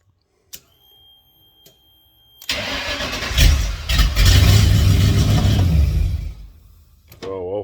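A Nissan Patrol fitted with a V8 engine starts for the first time: a few quiet clicks, then loud cranking that catches and runs as a rough, full engine roar before settling and dropping off, with a brief warbling tone at the end.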